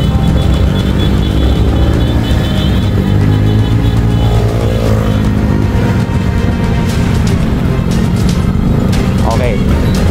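A loud motor vehicle engine, likely a motorcycle, roars close by during a road cycling race, a constant heavy drone with shouting voices over it.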